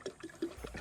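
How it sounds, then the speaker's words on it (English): Bottled spring water pours onto potted plants in a garden, a short, soft splashing and gurgling trickle heard close up and alone. "Might as well add the rest of these spring waters"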